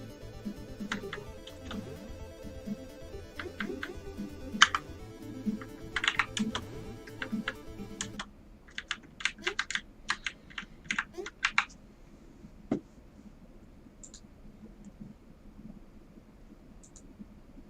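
Computer keyboard keys clatter in quick bursts while a game is played on it, the clicks dense and steady at first, then sparser, sharper taps against a quiet background.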